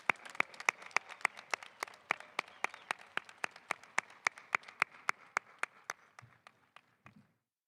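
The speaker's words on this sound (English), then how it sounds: "let's give a round of applause to those individuals." Someone at a community college commencement claps alone, one pair of hands nearby giving about two dozen crisp, evenly spaced claps at a brisk steady pace before they stop.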